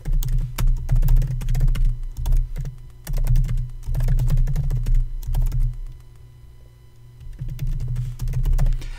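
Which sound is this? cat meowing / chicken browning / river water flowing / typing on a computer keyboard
typing on a computer keyboard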